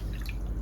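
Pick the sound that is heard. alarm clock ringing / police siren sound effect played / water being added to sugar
water being added to sugar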